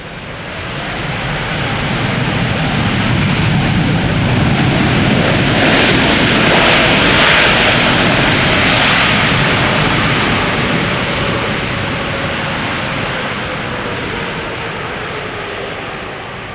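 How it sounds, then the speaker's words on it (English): A Boeing 747 jumbo jet roars past at Schiphol airport, its broadband engine noise loud and sustained, swelling to a peak midway and then slowly fading as it moves away, with no voices. "Not the loudest, but definitely not the quietest of the 747s"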